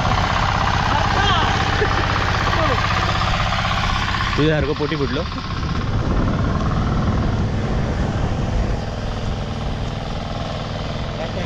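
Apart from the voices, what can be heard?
tractor engine running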